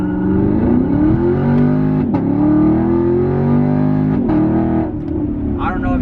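A 6th-generation Chevrolet Camaro launches hard in manual mode, its engine revving loud and close for several seconds in a continuous rising roar with brief dips where it shifts.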